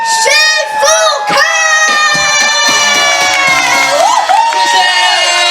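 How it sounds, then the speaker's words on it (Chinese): A large crowd at an outdoor evening concert in Xinwu, Taoyuan, cheering loudly, with high-pitched screams and whoops rising and sliding above a continuous roar of applause and shouts. "热情的欢呼声加尖叫声"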